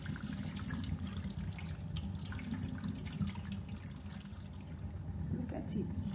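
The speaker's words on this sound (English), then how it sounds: "I'm going to remove this water again." Water being poured off settled corn paste while making Nigerian akamu, a continuous liquid trickle and splash close by in a kitchen, running steadily with a brief heavier gush near the end.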